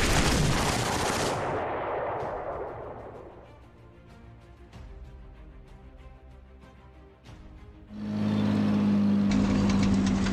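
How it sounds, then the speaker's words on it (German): Heavy artillery barrages in the Panzer Corps wargame, set in Normandy in June 1944 near Villers-Bocage: a loud roaring blast that fades into rumbling echoes, then another powerful explosion bursts in near the end. "Dann hauen wir mit der Artillerie hier rein."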